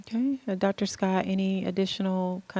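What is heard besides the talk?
No distinct noise like a dog, phone or traffic.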